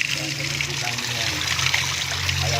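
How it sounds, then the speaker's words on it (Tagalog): Water flowing out of a carbon water filter, a steady trickling stream close by, with a voice talking over it and a low hum underneath. "Ayan po yung tubig na ilalabas natin para maging malinis yung tubig."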